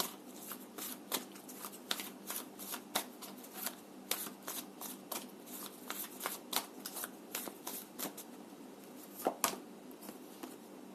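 Tarot cards being shuffled by hand, a long run of quick papery riffles and taps in irregular bursts, close and soft with no talking.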